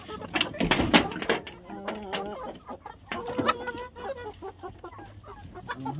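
Farm hens clucking nearby in short, repeated bursts, mixed with rustling and a voice talking over the birds.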